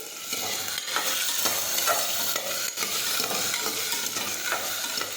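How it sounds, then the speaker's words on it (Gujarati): Potatoes for batata nu shaak frying in a pan, a dense, loud, continuous sizzle with a spoon scraping and stirring through it at close range, with no talking. "હવે આપણે સાતળી લઈશું."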